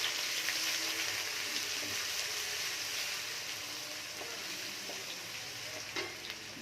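Sliced onion and garlic fry in oil with bay leaves and four dried red chillies, giving an even, close sizzling hiss that slowly eases in loudness.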